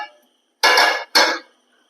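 A pot lid is lifted off a pot of simmering yam curry on the stove: two short, bright metallic scraping clinks in quick succession, close and fairly loud, with quiet around them.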